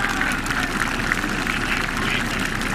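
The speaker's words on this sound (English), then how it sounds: "Big round of applause." Stadium crowd at a Penn at Harvard college football game in 2003 applauds an injured player, a steady broad wash of clapping and cheering that carries on throughout, heard at a distance.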